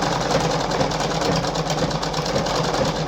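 A Singer 5107 sewing machine runs a dotted zigzag stitch, a steady close mechanical whir with rapid rhythmic needle pulses throughout, no voices.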